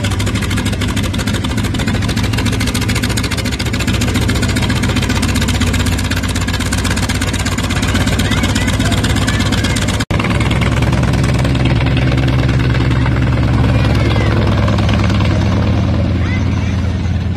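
A T-28 Trojan aircraft piston engine starts at an air show demonstration, catching after a cough and settling into a loud, steady, rumbling idle that fills the clip.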